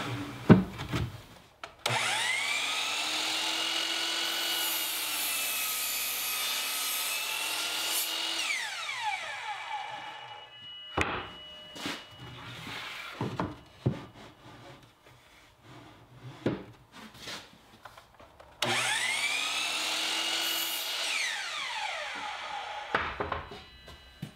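Chop saw cutting cedar boards to length against a stop block, two long whining cuts with the blade spinning up and winding down, separated by clattering and knocking as boards are repositioned, no talk.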